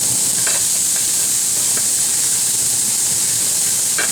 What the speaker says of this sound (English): now I'm going to add my onions to the pan, and we're just going to let them soften a little